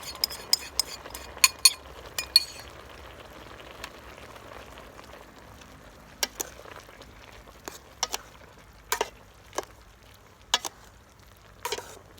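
Tamarind water goes into vegetables cooking in a pan for a Thai jor phak kad dish: a short burst of sizzling and stirring with quick spoon clinks, then quieter scattered metallic taps against the pan.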